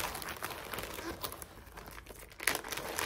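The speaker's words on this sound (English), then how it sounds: "we have to open up a plastic bag." A plastic bag is opened by hand at close range, crinkling and rustling continuously with a sharper crackle near the end.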